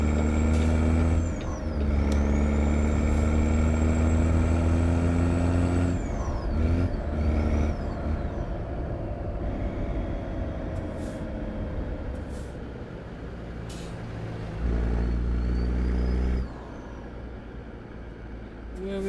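A Peterbilt 579 stand-up sleeper truck engine in American Truck Simulator drones loudly with a deep steady tone, sliding through gear shifts and rev changes, dropping out briefly around midway and again near the end, with an air-brake-like hiss.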